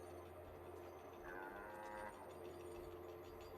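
Cattle mooing in the Guild Wars 2 video game, a drawn-out low moo rising over a steady game soundtrack and ambience, moderately close and heard without talk.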